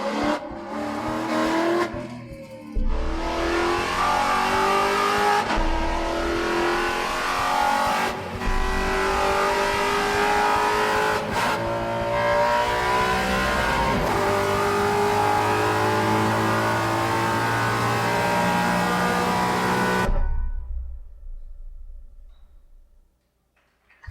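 A Maserati car drives and revs hard, loud engine roars rising and falling with tire squeal and skids across several passes, then cutting to near silence at the end.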